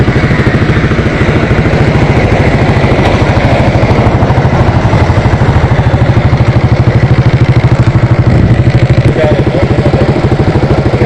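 A motorcycle engine idles close by with a steady, throbbing low putter that runs throughout, with people talking over it.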